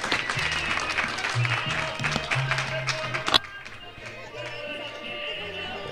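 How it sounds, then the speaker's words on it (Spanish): Spectators at a charreada in a Mexican rodeo arena applaud a rider. The clapping is moderate and scattered under a booming announcer's voice and background music, and it thins after a sharp knock midway. "El aplauso fuerte para Carlos Peñalosa, general Manuel Ávila Camacho."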